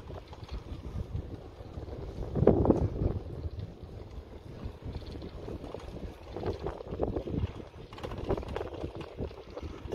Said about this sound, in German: Das Rauschen vom Wind ist bestimmt besonders toll, wenn ihr euch das Video anschaut.